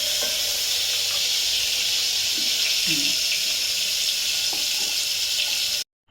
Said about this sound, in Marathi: लसूण फोडणीला घातलं